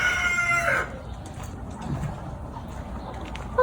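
Backyard hens cluck and a rooster gives a crowing call at the start, then softer scattered clucks and rustling follow from the coop area.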